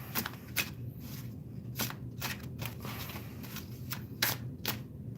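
Universal Tarot deck cards shuffled by hand in a quiet room, a run of soft riffling and crisp card snaps at an uneven rhythm, close and fairly faint, with no talking.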